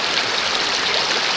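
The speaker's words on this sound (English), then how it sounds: "this particular sluice needs a lot of fast water running through it" Fast water rushes continuously through a gold prospecting sluice at Canvastown, a loud, close, steady hiss and gush of flowing stream with no voices.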